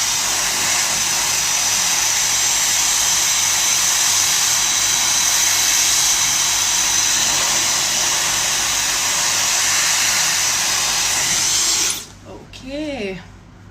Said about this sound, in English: So see the direction of my dryer. That is very important when you dry your hair.